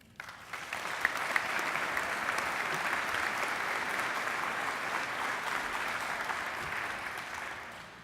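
Audience applause greets a seed-company executive stepping up to the podium at an agricultural industry event, a dense, steady clapping that swells quickly and holds evenly for several seconds before easing slightly.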